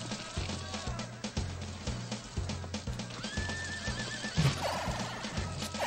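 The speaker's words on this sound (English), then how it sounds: "Why was there random horse whinnying in this?" Brief horse whinny in the BS Zelda video game, heard over looping chiptune music with a steady bass rhythm, near and fairly loud around the middle of the clip.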